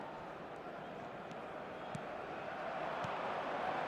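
A stadium crowd in the eFootball video game murmurs as a steady, faint wash of background noise that swells slightly toward the end, with a few soft thuds.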